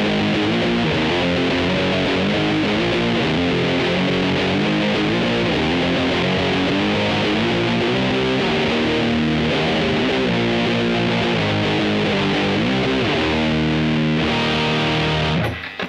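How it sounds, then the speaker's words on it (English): An electric guitar played through a TC Electronic Grand Magnus distortion pedal gives a continuous, thick, high-gain distorted rhythm part that rings steadily and loudly with no pauses or talk. "It still sounds like a high gain distortion when you're playing a lead"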